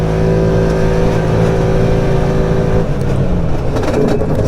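A Can-Am Maverick Trail 700 UTV engine drones steadily at a loud, close level. Near the end it drops into a rougher, revving surge.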